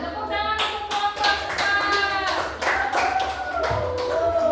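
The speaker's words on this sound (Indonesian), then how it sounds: "Tepuk tangan untuk kelompok" Hands clap in an irregular burst of applause for a group presentation in a classroom, with sustained tonal voices or music running underneath.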